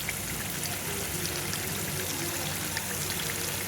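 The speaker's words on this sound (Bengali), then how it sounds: "এখন আমি মাছের ডিমটা দিয়ে দিচ্ছি।" Fish roe dropped into hot, oily fried spice paste gives a steady, dense sizzle and crackle that fills the moment, close and even, with no talk.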